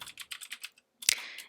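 Computer mouse clicked repeatedly: a quick run of light, close clicks, a short pause, then a brighter, louder click-clatter that fades out.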